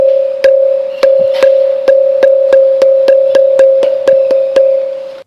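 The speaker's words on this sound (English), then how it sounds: "here is a sound similar to a school bell" A stone temple pillar struck repeatedly in a quick, even series of about a dozen metallic pings, ringing like a school bell, close and loud with no voices.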